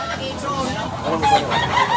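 A rooster crows loudly and close at hand, its call stretched over about two seconds above a busy farmyard din, with a voice talking nearby.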